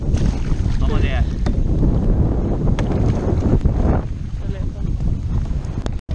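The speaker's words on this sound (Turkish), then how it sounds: "Burası çok dalgalı. Çok rüzgar var" Strong wind roars across the microphone on a canoe on choppy water, a loud continuous buffeting rush with splashes and faint voices underneath.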